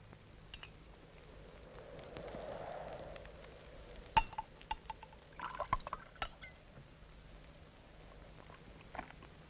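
A glass of brandy being poured at close range, with a soft liquid swell followed by a cluster of small glass clinks and knocks, quiet and alone.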